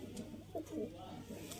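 Pigeons coo in low, soft, rolling bursts, several overlapping calls repeating close by and steady throughout.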